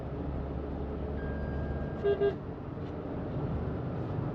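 Steady road traffic rumbles past, and two short car-horn toots sound close together midway through.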